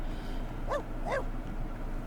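A dog gives two short, close yips or barks a fraction of a second apart over a quiet outdoor background.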